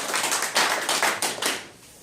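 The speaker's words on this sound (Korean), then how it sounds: "박수를 한번 하겠습니다" Brief burst of applause, crisp hand claps from a small group, close and fairly loud, fading out after about two seconds.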